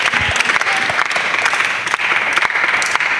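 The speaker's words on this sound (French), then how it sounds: "Acclamation pour lui, il a trouvé. Acclamez très fort." Audience in a church applauding and cheering loudly, dense rapid clapping filling the whole stretch with a few sharper claps standing out, close and continuous.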